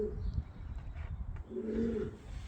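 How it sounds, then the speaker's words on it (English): Pigeons coo softly up inside the tower of Titchfield Abbey, with two low, murmuring calls echoing faintly against a quiet, hollow background. "Hear the pigeons"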